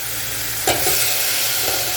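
Golden onion sizzles in a hot pan as pre-boiled sausages are added, a steady loud frying hiss with a brief sharper burst of crackle when the sausages go in.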